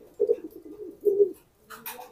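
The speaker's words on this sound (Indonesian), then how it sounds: "Tuh ini merpati pijikan nih" Domestic pigeons coo close by in two low, throaty bursts, followed by a brief rustle or flutter at the end.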